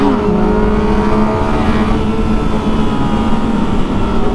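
A ZX6R or MT09 motorcycle engine revs hard and loud during a wheelie, a sustained droning roar with pitch holding steady and slightly climbing, close and continuous.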